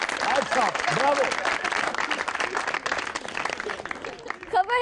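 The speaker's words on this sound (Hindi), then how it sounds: "ताली होनी चाहिए इसके लिए, ताली।" A studio audience claps and cheers in a comedy parody show, with a dense burst of applause carrying on under excited voices and laughter that swell and fade across the moment.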